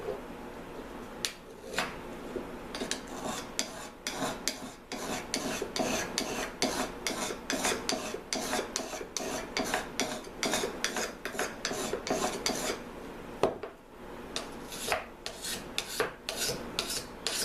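A metal hand tool has its edge and tip sharpened with a file or stone in steady back-and-forth rasping strokes, close and continuous, with a short break partway through.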